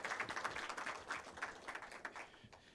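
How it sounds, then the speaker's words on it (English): An audience applauds for a professor at a presentation, with a brief burst of scattered clapping from many hands, fairly faint and quickly tapering off. "Can we clap for Prof?"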